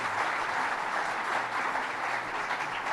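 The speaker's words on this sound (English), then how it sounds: "I think it's fine for our staff to go ahead and give Mo a round of applause." Staff at a Detroit Pistons press conference giving a brief round of applause, a steady wash of clapping from a small group throughout, with no talk.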